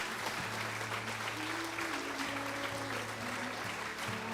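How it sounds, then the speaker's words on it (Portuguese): A church congregation claps during a Sunday service, with steady, even applause under a sustained low organ or keyboard drone that holds throughout. "Quantos podem aplaudir o Senhor Jesus?"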